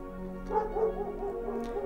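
Fyrus, a dog in the video game Leviathan, yips and barks excitedly in a quick series of short, close, moderately loud yelps, alone with no talk.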